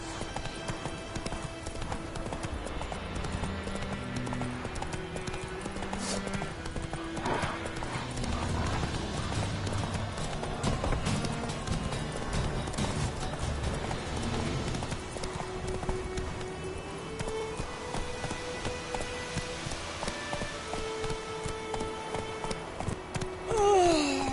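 Horse hooves clip-clop at a steady galloping rhythm, close and continuous, over a layered video game soundtrack, with a brief whinny near the end.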